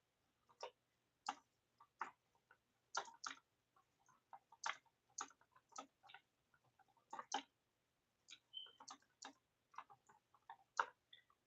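Soft, irregular clicks of keys being typed on a keyboard come in quick bursts and short pauses, faint and close in an otherwise quiet room.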